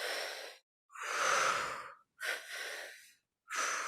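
Deep breaths in and out through the mouth, close and airy, in a slow cycle of long inhales and exhales separated by brief silences.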